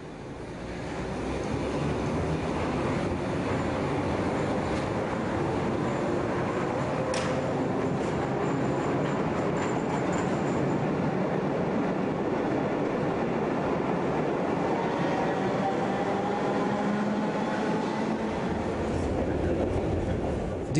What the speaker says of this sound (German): Wieder eine historische Sonderfahrt, diesmal mit einem A2-Zug. Ausfahrt im 100-jährigen Bahnhof Wittenbergplatz.